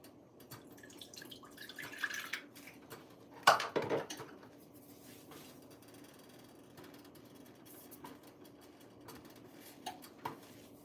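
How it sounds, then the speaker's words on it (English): Water poured into a pot of baby porridge in a kitchen: a brief splashing burst in the middle, with faint drips and light clinks of the pot around it in a quiet room. "I'm going to just add a little bit of water."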